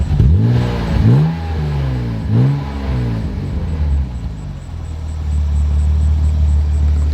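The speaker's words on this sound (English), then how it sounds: "Get some revs real quick" A BMW Z3 engine revs hard three times in quick rising bursts, then settles back into a steady, low rumbling idle.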